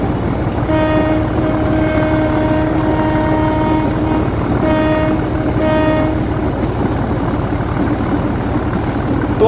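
A train horn sounds in repeated blasts, several long tones with a pair of shorter ones later, over the steady rumble of a passing train and idling engine in an Indonesian rail shunting game.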